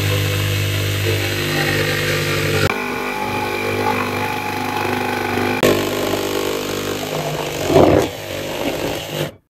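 A power saw fitted with a wide Dewalt DT2074 blade cuts curves through a workpiece, its steady motor drone running throughout with two brief shifts in load and a louder, rougher burst near the end as the cut is forced.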